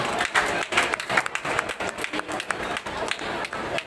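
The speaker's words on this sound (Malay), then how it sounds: "Tepukan untuk Nur Hisham bin Jasmine." Warm audience applause at a Malay storytelling competition final held at WTC Kuala Lumpur, a busy patter of many hands at moderate loudness with uneven swells throughout.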